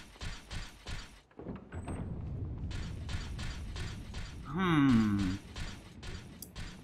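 A heavy door opens in the Resident Evil 4 HD video game, giving a mechanical ratcheting clank and a creaking groan, with game ambience and a voice speaking around it.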